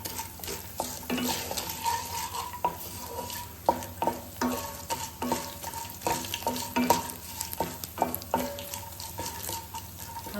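Roasted dal stirred in a pan while making South Indian coconut chutney, with a low sizzle and irregular metallic scrapes and clinks of a spoon against the pan, no speech.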